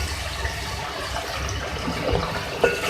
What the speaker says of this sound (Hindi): और इसमें हम थोड़ा सा बिल्कुल पानी ऐड कर रहे हैं।